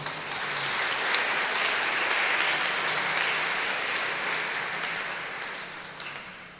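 A church congregation applauds during a Sunday Mass, a sustained wash of clapping from many hands filling the space at moderate level, steady for several seconds before easing slightly toward the end.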